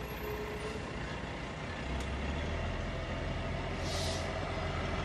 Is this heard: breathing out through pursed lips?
no